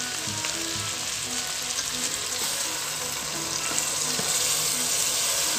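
Soaked basmati rice goes into a pan of sizzling spices, a loud, steady frying hiss with scattered crackles and faint stirring underneath, continuous throughout.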